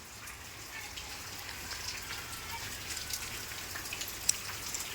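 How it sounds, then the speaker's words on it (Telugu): Steady, dense rain pouring down, a constant hiss of drops hitting surfaces with occasional sharper splats, continuous and fairly loud throughout. "ఇప్పుడు కొద్దిగా ఎక్కువ అయింది వర్షం చూడండి"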